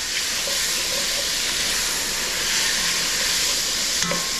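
Beef for stew browns in a pot with a loud, dense, unbroken sizzle that runs throughout, and a faint clink comes near the end.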